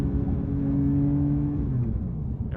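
Porsche 911 S/T engine pulling hard on an open road, a loud, close droning rev that climbs steadily in pitch, then eases and settles as the throttle lifts.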